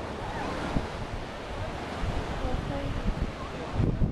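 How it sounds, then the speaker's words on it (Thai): Strong ocean waves crash along the Sydney coast, a continuous loud surf roar mixed with wind buffeting the microphone, with a heavier surge toward the end. "คลื่นแรงมากตอนนี้นี่คือบรรยากาศเนาะ"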